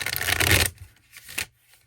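Tarot cards, some kept in tins, shuffled by hand: a dense papery rustle for most of a second, then a softer second burst, close and alone with no talk.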